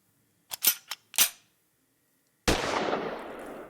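Gunshot sound effect in a podcast: a few sharp cap-gun-like pops, then after a pause one loud blast that rings out and decays, with no speech.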